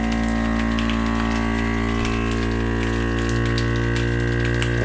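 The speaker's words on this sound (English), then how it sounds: "I hold it down nice and tight as it goes through the seal process, because then it heat seals it, which then completely vacuum seals this thing tight" A vacuum sealer hums and whirs steadily as it draws air from a bag of dehydrated spaghetti and heat seals it, a loud motor drone with faint crinkling and clicks throughout.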